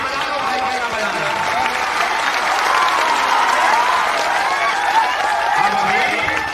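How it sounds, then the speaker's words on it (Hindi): A crowd of people at a political rally in Bihar applauds steadily, dense continuous clapping heard close and loud throughout, with some voices mixed in. "अब ताली बजा लो भाई, क्या बजाना।"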